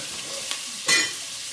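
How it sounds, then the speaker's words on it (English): Chicken pieces browning in olive oil in a pan make a soft, even sizzle that swells into a brief, louder hiss midway, then settles back. "I'm going to take the chicken and I'm going to put it in and brown it up."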